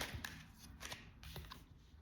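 Tarot cards shuffle in quiet, soft riffling bursts, several short papery flurries close by at low volume with no talk.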